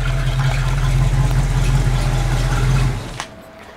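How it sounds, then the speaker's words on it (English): A 1974 Plymouth Barracuda with a 318 V8 and dual exhaust idles close by with a deep, even burble for about three seconds, then drops away with a single click and quiet follows. "As far as that dual exhaust sound, it's got a great sound to it. Just a nice, healthy 318."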